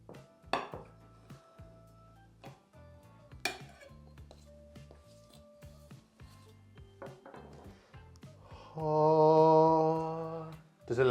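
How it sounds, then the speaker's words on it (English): A large knife works through an orange drizzle cake in a kitchen, with sparse clinks and taps of metal on plate and board, then a brief sustained humming tone near the end. "we've got ourselves a rather large knife. I think straight through the middle, make sure it's cooked"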